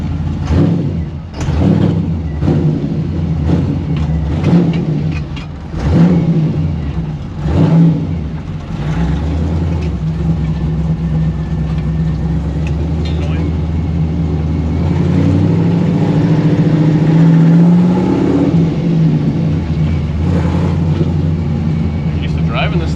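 A 1955 Chevy Nomad gasser engine running while being driven, loud and close, with revs rising and falling and then a steady rumbling stretch, under talk from people in the car.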